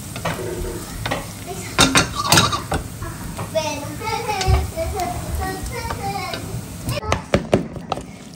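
Minced pork with onions, thyme and parsley stirred in a sizzling pan in a home kitchen, with scraping spoon strokes and clinks up close, while adults and someone talk over it.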